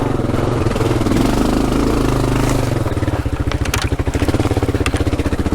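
A Kawasaki KLR adventure motorcycle engine runs loud and close, a steady drone that settles into a rhythmic, throbbing thump while the bike rolls along.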